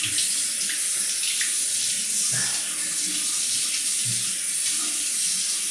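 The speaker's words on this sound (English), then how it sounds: "I'm just gonna wash it underwater, make sure some of that powder is off" A shaving razor, a Razorock Game Changer .84, is rinsed under a running tap, producing a steady close hiss of water splashing into a sink with faint clinks, and no voices.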